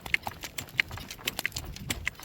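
A horse's hooves clip-clopping at a steady walking pace, several distinct hoof strikes in an even rhythm, fairly close.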